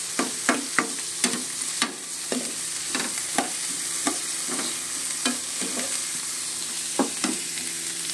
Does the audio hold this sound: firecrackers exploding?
no